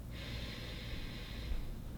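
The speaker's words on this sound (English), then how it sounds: "So breathing here, inhale," A single deep nasal inhale during a yoga stretch, a steady airy breath drawn in close to the microphone for about a second and a half against a quiet room.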